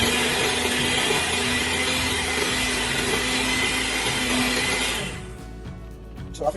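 An electric mixer whirs steadily while beating mango cake batter, a loud continuous motor drone that cuts off near the end, leaving faint clinks and handling noise.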